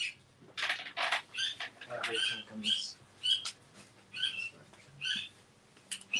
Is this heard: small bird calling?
yes